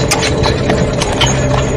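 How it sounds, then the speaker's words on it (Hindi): Horses pulling a coach clip-clop in a steady, close rhythm of hoofbeats, loud and continuous with no speech over them. "चुपचाप कोच पर सवार हुआ और घोड़े चल पड़े"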